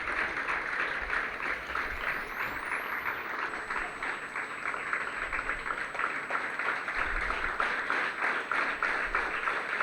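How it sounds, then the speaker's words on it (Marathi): An audience claps steadily for a youth worker receiving an award at a ceremony, a dense, continuous round of applause from many hands throughout, with a faint electronic tone running above it. "जोरदार टाळ्या वाजवून आपण त्याचं कौतुक करूया"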